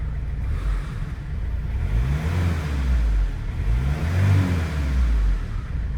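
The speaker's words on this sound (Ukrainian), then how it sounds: "Автомобіль працює рівненько." A 2007 Peugeot 407 car engine runs steadily at close range, with a low rumble that rises and falls slightly a few times.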